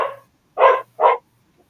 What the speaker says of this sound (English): My dog is barking in response to your dog.